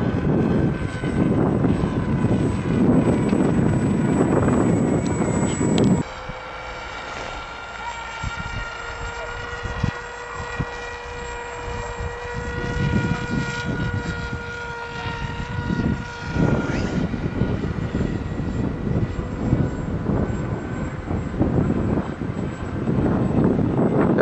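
A remote-controlled AXN Floater Jet model plane flies about 100 metres out, its electric motor giving a steady high whine that dips midway and then swells again, with voices talking nearby over wind.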